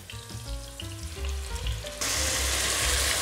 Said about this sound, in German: unsere Involtinis kommen jetzt hier schön in einen Topf mit heißem Fett und werden schön von allen Seiten angebraten